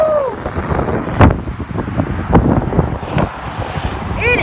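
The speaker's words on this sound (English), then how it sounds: "The wind is bad." Strong wind in a snowstorm buffets the microphone, giving a rough, gusty rumble with irregular thumps throughout.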